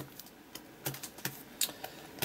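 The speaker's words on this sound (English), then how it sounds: "Just flicking through my folder with all my stencils in." Sheets in a folder of stencils are flicked through, giving soft, scattered clicks and snaps, quiet and close, with short gaps between them.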